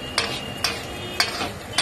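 Onions fry in hot oil and are stirred, a steady close sizzle broken by three sharp scraping strokes of a utensil against the pan.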